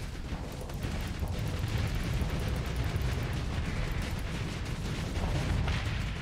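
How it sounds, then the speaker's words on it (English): Sabot missiles launching in Starsector space combat, heard as a continuous loud barrage of thumping, crackling blasts and rumbling impacts layered over one another with no pauses. "Fire more of the Sabos."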